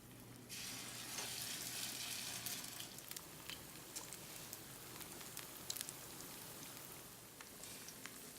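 Plotski frying in heart-shaped molds in a pan, a soft steady crackling sizzle with scattered faint pops, close but quiet and without talk.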